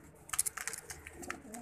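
Pigeons coo in a loft where paired breeding birds are kept, soft throaty calls repeating in a few short bursts, close and fairly quiet, with no talking.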